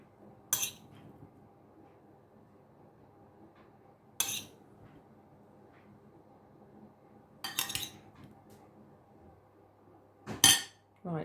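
A metal spoon clinks against dishes during cooking, in four sharp, separated taps spaced a few seconds apart over a quiet background, with no talking.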